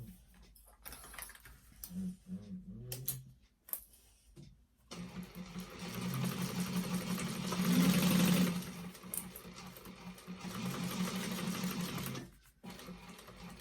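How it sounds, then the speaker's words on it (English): A sewing machine stitches a tote bag's lining seam: short stop-start bursts come first, then a longer continuous whirring run, with quiet handling pauses between. "we are going to sew that with a 1/2 inch seam allowance"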